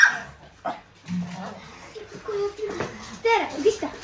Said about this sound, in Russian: Все собаки родные.